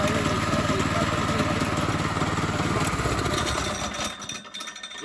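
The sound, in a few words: loose golf cart chain part clanking against metal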